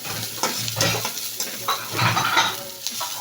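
Onion and garlic sautéing in a pan for sarsyadong fish, a close, steady sizzle broken by quick scraping stirs of a utensil against the pan.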